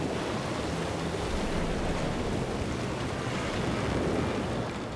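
Dense, steady roar of churning ocean water and wind in a storm, loud and unbroken throughout, like heavy surf crashing in rough weather.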